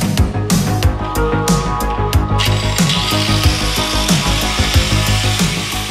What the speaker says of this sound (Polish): Poprawiamy tarczą lamelkową o granulacji 40.